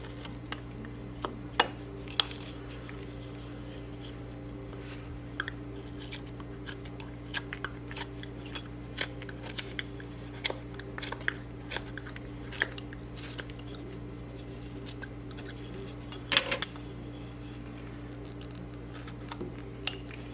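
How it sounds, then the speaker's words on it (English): A woodcarving knife cuts into butternut wood while a face is carved, producing sparse, quiet scraping clicks and small snaps scattered over a steady background hum. "carve up to it"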